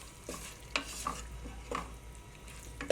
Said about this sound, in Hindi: अब मैं इसको भी इस गोश्त के साथ शामिल कर लूँगी और इसको हम मीडियम फ्लेम पर अच्छे से भून लेंगे।